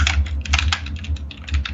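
Fast typing on a computer keyboard, close and crisp, with rapid clusters of key clacks over a low steady hum and no talking.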